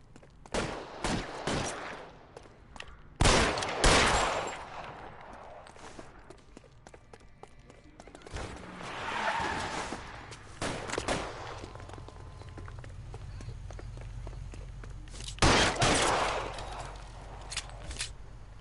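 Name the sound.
gunfire from the video game L.A. Noire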